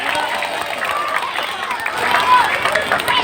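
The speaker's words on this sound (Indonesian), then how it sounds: "Ibu tepuk tangan dulu dong." Clapping from a crowd of women at a lavish stage event, a dense steady patter mixed with crowd noise and voices, swelling slightly toward the end.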